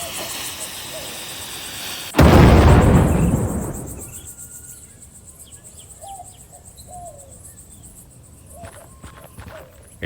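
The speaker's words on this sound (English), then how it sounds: "And an explosion will certainly liven up your article." A sudden, loud explosion in the adventure game Rosewater booms in with a heavy low rumble that decays over a couple of seconds, leaving faint insect and bird calls chirping in the background.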